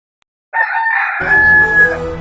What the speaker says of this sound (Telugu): ఇది వచ్చేసి నాలుగో కోడిపుంజు ఫ్రెండ్స్.